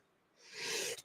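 A single sneeze from a person working at a pen-turning and diamond-painting bench: a soft breathy build-up that swells into one fairly faint, airy burst before cutting off sharply.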